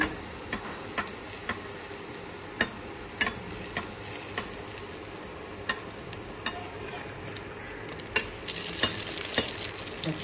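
Luchi fry in hot oil with a steady faint sizzle, broken by scattered light ticks and clinks of a utensil against the pan, growing a little louder near the end.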